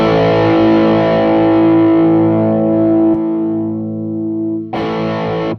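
A distorted electric guitar chord through a Bogner Ecstasy Mini amp head rings out and sustains, fades, then is struck again abruptly, thick and compressed in tone.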